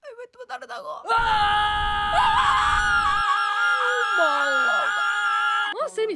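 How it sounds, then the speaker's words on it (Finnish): A character in a Finnish-dubbed Demon Slayer parody lets out a long, loud, wavering scream that runs for several seconds with pitch bends, preceded by brief voiced sounds and ending in a gasp. "Enkä pysty lopettaa huutamista!"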